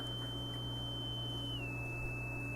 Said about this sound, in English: you can hear that horrible high-pitched tone